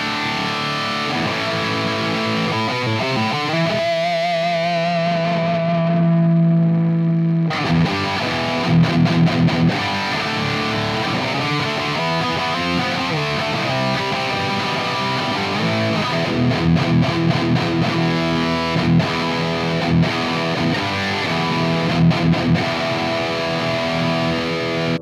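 Distorted electric guitar played through a ToneX capture of a Mesa Boogie MkIIC+ amp, heavy crunchy riffs and sustained chords with brief pauses and choppy palm-muted bursts throughout.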